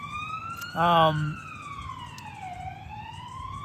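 A police car siren wails in a street near Rishikesh, India, as a slow rising and falling tone that runs through the whole stretch at moderate distance. A voice speaks briefly over it.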